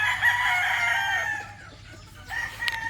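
A young gamecock stag crows once from an enclosure, a full drawn-out call fairly near and loud, trailing off, followed by a shorter second burst of crowing.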